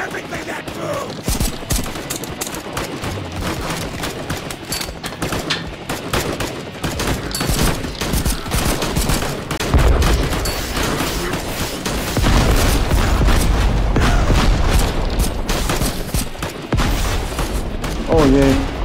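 Gunfire rattles in the VR shooter Cactus Cowboy Desert Warfare on PSVR2, dense bursts of rapid shots with heavier booms mixed in. The firing is loud and nearly continuous, and voices talk over it at times.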